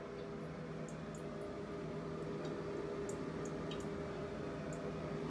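Water running steadily from a leaking shower wall, a constant faint hiss and trickle with no talk, steady throughout.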